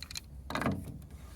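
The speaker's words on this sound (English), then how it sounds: "So this is where channel locks come in. Loosen those up." Channel lock pliers grip and loosen a tight cap on a tankless water heater valve, a brief close metallic ratcheting scrape with a few clicks, over in about a second.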